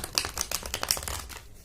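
Tarot cards being shuffled and drawn, heard as a quick run of close, crisp rustling and flicking bursts that soften and fade near the end, with no talking.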